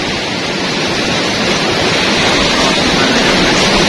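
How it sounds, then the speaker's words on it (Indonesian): Continuous roaring rush of heavy ocean surf beside rocks, a dense broadband wash that stays loud and steady throughout without pauses. "ombak ya sangat dahsyat"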